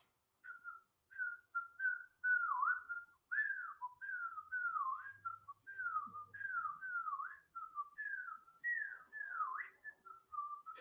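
A solo whistler carries a lilting Cajun folk tune, clear and close, in a steady run of bouncing, slurred phrases with short breaths between them.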